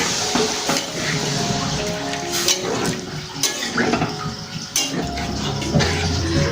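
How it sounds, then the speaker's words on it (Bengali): Water poured into a pan of egg tadka for a Punjabi-style dish, a steady close splashing and bubbling with faint clinks of the pan and no voice. "এবার আমরা একটু জল দিয়ে দিচ্ছি, এটাকে একটু ফোটাতে হবে।"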